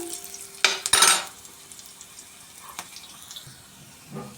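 Curry leaves hit hot oil for a tempering, giving a sharp crackling sizzle that bursts loudly for about half a second and then settles into a faint, steady fry with a few small pops, with no voices.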